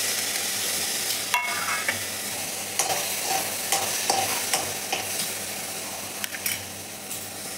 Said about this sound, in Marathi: आता आपल्याला हे तुरीचे दाणे भाजून घ्यायचे।